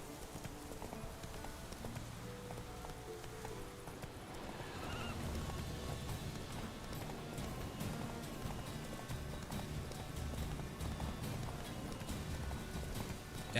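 Roach the horse galloping in The Witcher 3, steady clip-clop hoofbeats under a wash of outdoor game ambience, growing fuller and denser after the first few seconds.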